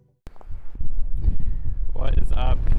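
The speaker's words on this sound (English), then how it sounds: "It's incredibly windy here" Strong wind buffeting a microphone outdoors at night, a loud low roar that rushes and gusts throughout, with someone talking over it.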